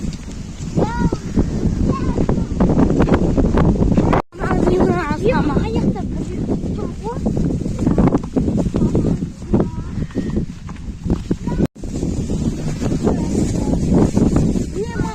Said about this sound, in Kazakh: Жел болып кетті ғой.